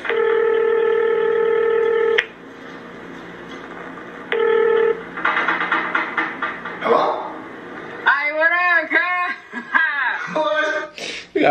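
A telephone rings with sustained electronic tones that repeat after a gap, then give way to keypad-like beeps and voices chatting and chuckling.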